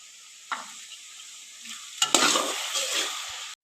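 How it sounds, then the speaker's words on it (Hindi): Chickpeas frying in a pan for pulao, a loud continuous sizzle with sharper stirring scrapes partway through and no talking. "तकरीबन 6-7 मिनट के लिए चनों को भूनते हुए पकाएंगे।"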